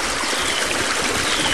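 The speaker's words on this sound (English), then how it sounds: "So the water just seeps out of the ground." Water seeps out of the ground on a farm near a pond, making a continuous close trickling, bubbling rush with no pauses and no voices.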